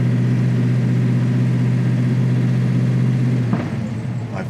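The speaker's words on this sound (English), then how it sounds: "we're just going to continue to warm up this Mustang by driving it around" A 1969 Ford Mustang Fastback Mach 1 restomod rolls slowly in low gear under light throttle, its engine giving a deep, steady droning rumble that eases off toward the end.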